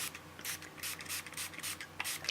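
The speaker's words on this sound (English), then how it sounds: "I'm also gonna come in here and spray that" A spray bottle misting water onto a painting, about eight quick hissing spritzes in an uneven rhythm, close and fairly soft, with no talking.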